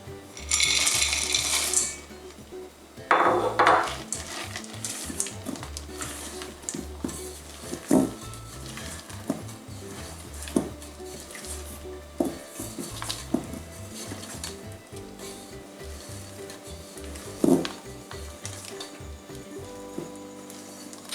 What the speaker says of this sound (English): next up we have 1 cup of chocolate chips that will fold in